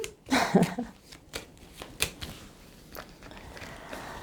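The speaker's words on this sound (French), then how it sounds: "Donc on va recouvrir les cartes qui sont pas cool." Playing cards laid down one after another onto other cards during a card reading, giving a few soft flicks and slaps close by, the loudest at the start, alone in a quiet room.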